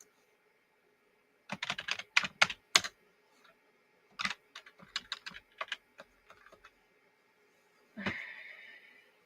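A malfunctioning computer keyboard being typed on in quick, irregular bursts of close, crisp key clicks, separated by short pauses, with no talking.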